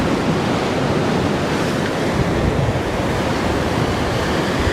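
Ocean swell washing up on rocks at a rock fishing spot, a loud continuous roar of surf and spray with gusty wind noise, no voices.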